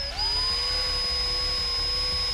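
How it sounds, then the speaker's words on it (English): A power drill bores down through the kicktail of an Apex longboard, giving a steady, loud, high-pitched whine with a constant rumble beneath it, running alone without speech. "just drill carefully down through each side"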